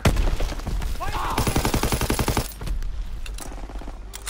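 Rapid bursts of rifle fire from the Red Baron rifle in Call of Duty WWII, a dense run of sharp, loud shots through the first two and a half seconds, then lighter scattered shots and game noise.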